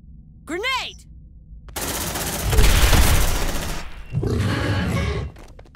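Sustained bursts of automatic suppressive gunfire in the video game Aliens: Dark Descent, loud and dense with a heavy low boom, following a brief rising alien shriek and broken by a short pause before a second burst.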